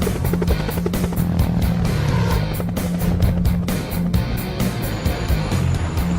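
A helicopter flies nearby, its rotor beating in a loud, fast, steady chop over a constant engine drone the whole time.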